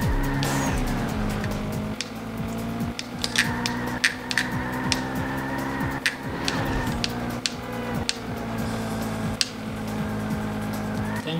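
Cars racing in Burnout 2: Point of Impact, a loud continuous engine roar with repeated tire squeals and skids and sharp impact clicks spread throughout.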